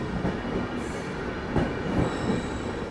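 Bhubaneswar Jan Shatabdi express train rolling into Kharagpur railway station, a steady loud rumble of coaches with wheel clatter and a thin high wheel squeal running over it, no voices.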